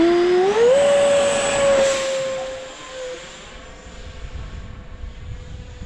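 A 3D-printed 70mm Mirage RC jet with an electric ducted fan roars loudly overhead, its whine rising sharply in pitch as it accelerates, then holding steady and slowly fading as it flies away.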